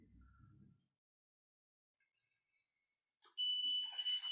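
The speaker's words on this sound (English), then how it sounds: "ignore the timer because we're not doing that right now" A workout timer gives a loud, sustained electronic beeping tone near the end, after a long quiet stretch with only faint low sounds at the start.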